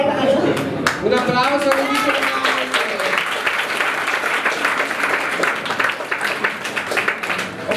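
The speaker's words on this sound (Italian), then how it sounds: "Un applauso, Luigi" Loud, continuous applause and clapping for a performer at a Miss Drag Queen Liguria 2015 pageant, filling the whole stretch, with a voice talking over the start.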